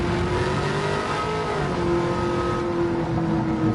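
A Trans Am with a swapped engine revs in Gran Turismo 7, a raw, ratty, steady engine drone with shifting pitch, loud and continuous throughout without any talk.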